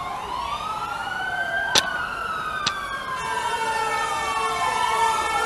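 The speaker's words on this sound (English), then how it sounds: "All right, here we hear the fire service. They are on their way." A fire service vehicle's wailing siren rises and falls repeatedly as it travels, moderately distant over steady traffic noise, with a couple of sharp clicks and no talking.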